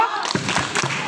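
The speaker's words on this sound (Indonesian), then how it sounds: "Beri tepuk hebat." A school audience at a Grade 6 class showcase claps in a short patterned rhythm of about three sharp beats, close and fairly loud over a murmur of background talk.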